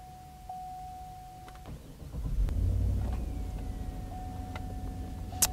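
A 2012 Cadillac Escalade engine cranks and catches, settling into a steady low rumbling idle close by, with a brief sharp sound near the end.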